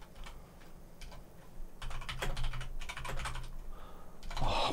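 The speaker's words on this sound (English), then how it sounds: "My fingers are too fat for this keyboard." Rapid typing on a computer keyboard, with bursts of clattering keystrokes that speed up and slow down against a faint room hum.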